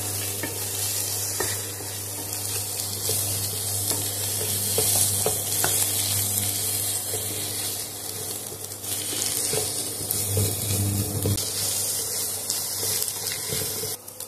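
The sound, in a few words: egg frying in a pan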